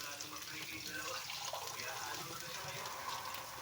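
Water poured into a pan of frying eggplant and stir-fried vegetables, a steady faint splashing and sizzling hiss that continues without break.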